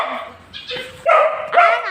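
A pet dog barks and yips close by, a few sharp high barks in quick succession with no speech over them.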